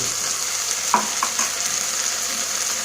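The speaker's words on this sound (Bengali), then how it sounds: "দিয়ে আবারও এটাকে ভালো করে ভেজে নেব" Ginger and green chilli paste fries with softened tomato and onion, giving a steady bright sizzle with a couple of soft spoon taps near the middle, close by and without speech.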